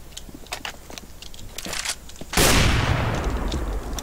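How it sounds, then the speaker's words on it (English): Gunfire in a competitive Counter-Strike: Global Offensive match: faint scattered shots and clicks, then a loud, close, sustained volley that roars through to the end. "That was me. I was just like shooting for fun."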